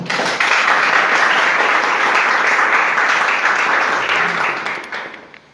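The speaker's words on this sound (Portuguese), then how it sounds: "Uma salva de palmas." A crowd applauds loudly and steadily for about five seconds, the clapping thinning and fading out at the end.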